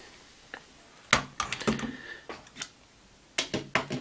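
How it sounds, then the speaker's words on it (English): The plastic legs of an Ankydon dinosaur toy are folded back, giving a handful of sharp, close clicks and snaps spaced unevenly, with no voices. "just fold back the legs"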